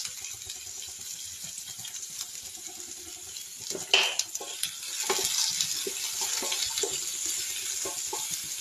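Onion and curry leaves fry in a pan with garlic and green chili, a faint steady sizzle with a few louder clatters and stirring knocks midway, no talking.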